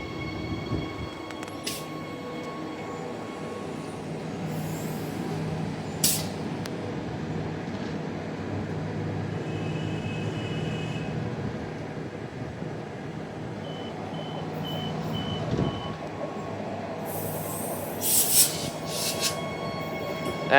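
A Perth suburban electric train, set 91 on the High Wycombe service, pulls into a station on the line between Daglish and Bayswater, its steady rolling rumble running throughout with brief high squeals and beeps, fairly close and with no talking.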